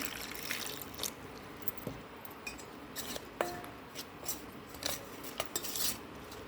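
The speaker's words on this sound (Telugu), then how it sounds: "అంతా బాగా మిక్స్ చేసుకోవాలండి, ఎక్కడ ఉండలు లేకుండా" Baby corn batter with coriander and water is stirred in a bowl, with soft wet mixing sounds punctuated by scattered clinks and taps of a spoon against the dish, close and fairly quiet.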